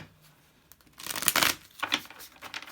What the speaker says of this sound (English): Let me give it one more good shuffle.